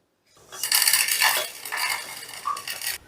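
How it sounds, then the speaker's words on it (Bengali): A crisply fried spice mix is scraped from a pan onto a plate, producing a continuous metallic scraping and clinking that holds steady for a few seconds, fairly close and moderately loud, with one brief ringing tap near the end. "এবার মশলাটাকে আমি একটা প্লেটে নামিয়ে নেব"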